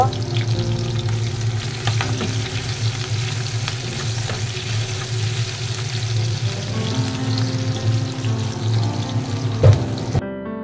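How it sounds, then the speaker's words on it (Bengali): Chopped onions fry in mustard oil in a pan with a loud, steady sizzle, stirred now and then, with scraping and clatter of utensils before it cuts off. "কিছু পেঁয়াজ কুচি দিয়ে দিলাম। এটাকে আমি ব্রাউন কালার করে ভেজে নেব।"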